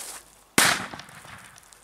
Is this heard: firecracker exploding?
yes